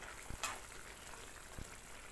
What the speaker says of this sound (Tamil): பாருங்கள், நல்லா இப்போ கொதிச்சிட்ருக்கு.